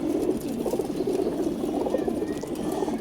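Pet male flying pigeons cooing in a loft, a dense overlapping murmur of low throaty coos from several birds nearby, continuous and fairly soft, with faint fluttering and shuffling.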